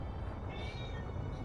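A house cat lets out a single drawn-out meow, moderately close, over a steady rumble of background noise.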